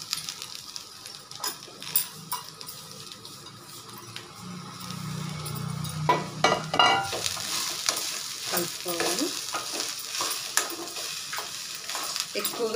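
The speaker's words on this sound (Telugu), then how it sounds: "మొలకెత్తిన గింజల్ని కొంచెం లైట్గా వేయించుకోవాలి." Sprouted grains lightly frying in a pan with turmeric, an even sizzle punctuated by repeated scraping stirs and light clinks of a spoon against the pan.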